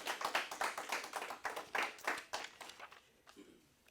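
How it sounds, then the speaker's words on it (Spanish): Congregation clapping at a Spanish-language church service, a quick burst of distinct handclaps that builds for about three seconds and then thins out, fairly close and moderately loud. "denle un aplauso para Él."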